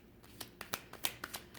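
Playing cards are shuffled by hand in a quiet room, giving a rapid run of crisp riffling snaps and flicks at a steady, close, soft level.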